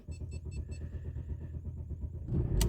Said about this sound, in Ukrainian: заведу машину